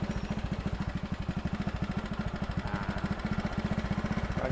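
A motorcycle engine chugs in a steady, fast pulsing rhythm close by while riding, the throb continuous and fairly loud with wind noise over it and no talk.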